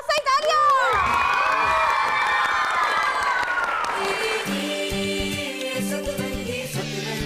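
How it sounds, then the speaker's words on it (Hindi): A studio audience on a TV show cheers and applauds for Rahim Shah, with loud whoops and shouting up front, then clapping continuing under a rising musical sting. "रहीम शाह के लिए बहुत सारी तालियां"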